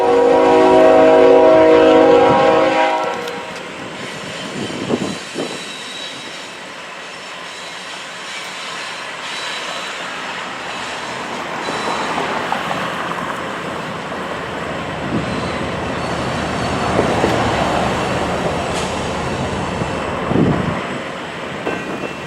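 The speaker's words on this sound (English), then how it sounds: "a Union Pacific southbound manifest led by 8064 rolled by" Union Pacific southbound manifest freight led by locomotive 8064 rolls past at Tower 60 crossings in Fort Worth, Texas: a loud horn blast opens, then a long steady rumble of cars with wheel clatter and squeals, close by.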